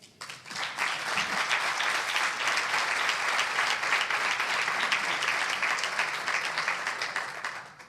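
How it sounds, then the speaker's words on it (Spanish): A crowd claps and applauds steadily for several seconds, building quickly and staying dense and even, with a slight fade at the end. "Por favor, un aplauso para Eva Vaz."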